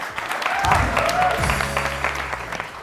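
A studio audience on a TV morning show breaks into steady applause, a dense wash of clapping that holds for a few seconds beneath a voice.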